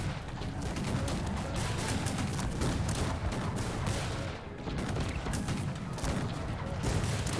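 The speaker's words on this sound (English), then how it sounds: "That's multi-barrel cannons for you." Multi-barrel cannons in the strategy game Cossacks 3 fire in a dense, continuous volley, a loud crackling barrage of overlapping shots with no pauses.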